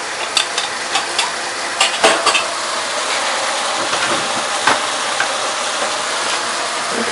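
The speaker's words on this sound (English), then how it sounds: "Okay, so just give this a stir." Garlic sizzles and crackles in oil in a pan while a utensil stirs it, making scattered scraping clicks over a steady close frying hiss, with no talking.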